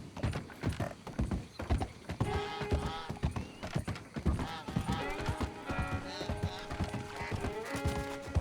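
Horse hooves clip-clopping with an occasional whinny in a cowboy video game, steady trotting rhythm throughout under layered game music and effects, with a voice talking over parts of it.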